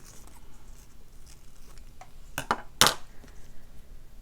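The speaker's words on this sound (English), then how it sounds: "Can even trim it a little bit further." Sharp scissor snips trimming a small fabric circle during slow hand stitching, a few crisp close cuts clustered midway through an otherwise quiet room.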